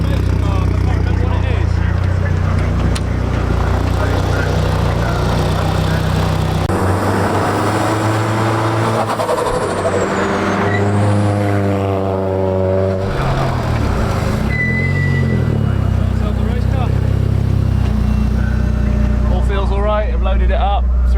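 Classic Thunder saloon race car with a six-speed gearbox, first start after a rebuild, at Silverstone: a loud, steady engine drone that swells and falls as revs rise and drop, close by throughout.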